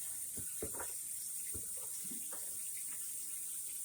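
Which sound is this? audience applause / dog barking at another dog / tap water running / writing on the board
tap water running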